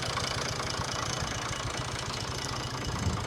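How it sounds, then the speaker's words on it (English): A Ford 3610 tractor engine idles steadily on a Portuguese farm, a continuous even low rumble with a fast regular knock, heard close and alone. "This is a Ford 3610."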